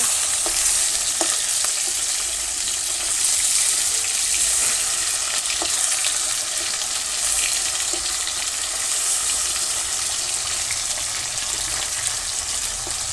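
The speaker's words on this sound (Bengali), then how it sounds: "মাছটাকে উল্টে দেবো, দেখি মাছটা কেমন ভাজা হয়েছে" Hilsa fish fries in a pan in a village kitchen, a close, steady loud sizzle of hot oil with occasional crackles and pops, running without pause and with no talk over it.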